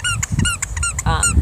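A squeaky sensory stim toy is squeezed repeatedly, giving a run of close, loud, high rubbery squeaks in quick succession with short gaps between them.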